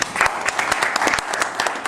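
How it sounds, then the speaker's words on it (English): Applause breaks out at a boxing press conference, a crowd clapping in quick, crisp bursts for a couple of seconds, loud and close. "Big round of applause."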